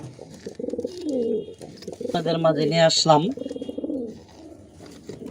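Teddy pigeons in a loft coo in soft, throaty repeated calls, with a louder bubbling coo in the middle, while someone talks over them close by.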